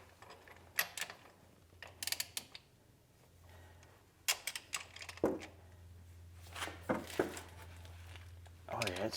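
Toyota Camry 2.5L engine turned slowly by hand at the main crank pulley during an engine swap, giving scattered mechanical clicks, clunks and ratcheting bursts with quiet gaps, close up, plus a faint steady low hum.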